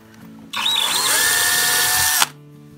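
Power drill boring a screw hole into resin artwork, a close steady high-pitched whine lasting under two seconds that starts and stops abruptly against a quiet room.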